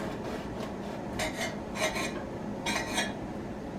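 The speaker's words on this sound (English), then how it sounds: "We're going to use a serrated knife to cut through." A serrated knife sawing through a freshly baked loaf of beer bread with a browned top, giving a few short raspy strokes over a low steady room hum.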